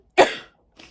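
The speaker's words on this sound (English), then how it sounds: "I'm going to cough again." A single sharp cough, followed by a softer, brief second cough or throat sound.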